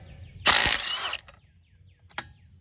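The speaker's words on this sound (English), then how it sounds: "So let's start with getting this tire off. 19 millimeter socket." A ratchet with a 19 mm socket works a wheel nut off a Cadillac SRX, giving a loud close burst of spinning and clicking followed by a few short, sharp mechanical clicks.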